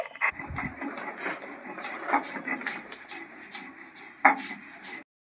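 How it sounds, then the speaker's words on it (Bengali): Mustard seeds, green chillies and salt ground together into a paste on a stone, a steady close scraping and rubbing with repeated strokes and a few sharper knocks. "একসাথে আমি সব বেটে নিচ্ছি।"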